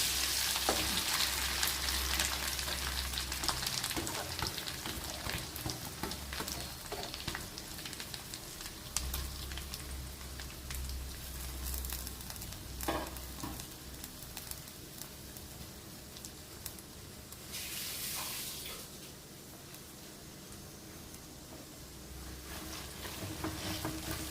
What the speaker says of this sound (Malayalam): ഇത് നമുക്ക് ഈ നെയ്ക്കകത്തിട്ട് നന്നായി ഒന്ന് വഴറ്റിയെടുക്കണം